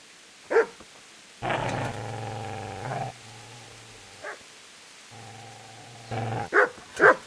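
Dog growling and barking in the medieval video game Kingdom Come Deliverance: long low growls with sharp barks breaking in at the start and near the end, close and alone.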